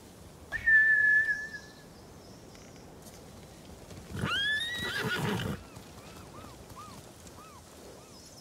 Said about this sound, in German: Das sind Samurai-Rösser.